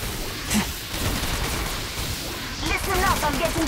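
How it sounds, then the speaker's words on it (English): Gunfire in Apex Legends Mobile during a battle royale match, a dense rattle of shots under busy game noise, with a voice speaking near the end. "Listen up, I'm getting shot at."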